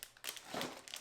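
Plastic packaging being ripped open by hand, a short burst of crinkling and tearing up close, quiet and brief, with no talking.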